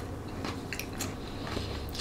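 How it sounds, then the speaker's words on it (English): Mac and cheese in a bread bowl being chewed up close, with faint soft bites and squishy chewing over about two seconds, quiet and with no talking. "It's easy to keep eating this macaroni."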